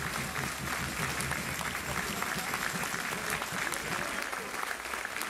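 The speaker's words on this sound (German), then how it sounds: "Dicker Applaus da einmal für alle." Sustained applause from a festival audience at the finale of a 2019 Zetel drum-and-trumpet music event, a dense continuous clapping that holds steady and loud throughout.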